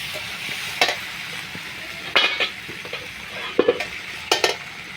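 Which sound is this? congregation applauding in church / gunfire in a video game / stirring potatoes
stirring potatoes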